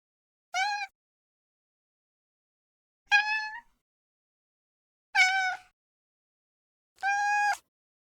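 Cat meows made for film sound design, four separate clear mews spaced a couple of seconds apart, close and clean against total silence, each a short tonal cry.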